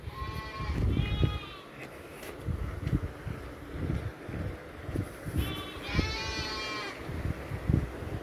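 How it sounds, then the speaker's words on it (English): Goat or sheep bleating outdoors on a windy day, two clear bleat bursts near the start and another longer one toward the end, over wind rumble and background shuffling. "It's a goat or a sheep, I don't know."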